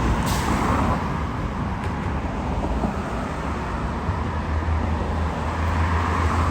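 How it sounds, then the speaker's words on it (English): Steady roar of city traffic on a Houston street, with buses passing and a brief hiss of an air brake, continuous and moderately loud with no speech. "Plenty of buses."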